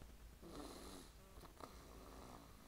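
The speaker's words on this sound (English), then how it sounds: "you can probably hear him snoring very loudly" A tired young child, worn out after a day at a softball doubleheader, snores loudly and steadily in a rough, rumbling drawn-out breath, close by and with no voices.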